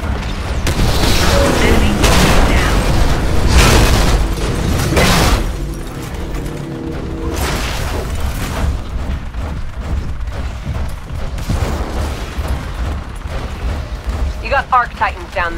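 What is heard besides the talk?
mortar titan artillery explosions in the video game Titanfall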